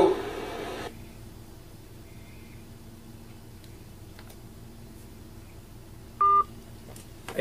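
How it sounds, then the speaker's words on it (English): One short telephone keypad tone beeps once in an otherwise quiet, faintly ticking room. "I think he was dialing 911"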